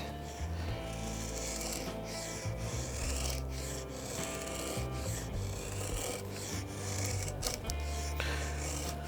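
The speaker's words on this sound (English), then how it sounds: "Let's try doing some feathers with the Pasayten real quick." A TOPS Pasayten Lite Traveler knife, a thin flat-ground blade 1/8 inch thick, shaves feather sticks from wood in repeated close rasping strokes, with no talking.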